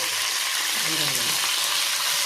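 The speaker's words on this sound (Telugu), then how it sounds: "ఇప్పుడు మన కరివేపాకు కొద్దిగా ఫ్రై అవ్వాలి" Curry leaves crackle and sizzle in hot tempering oil for a Telugu-style dal and okra stew, a loud, steady frying hiss up close with no speech.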